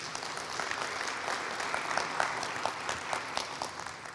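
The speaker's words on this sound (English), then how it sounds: "Let's give them a round of applause, please." Steady applause from a crowd at a county government address fills the space, continuous clapping of many hands at moderate distance, with no speech over it.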